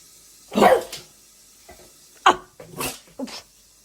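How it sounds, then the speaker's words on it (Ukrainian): A dog gives a few sharp, separate barks with short pauses between them, fairly close and loud in an otherwise quiet room. "Ну все, хватит вже. Начав гавкати."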